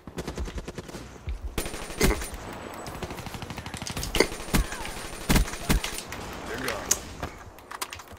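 Several loud bursts of automatic gunfire come from a gun in Call of Duty: Black Ops 3, with rapid sharp cracks and short pauses between them, backed by game effects and a voice talking.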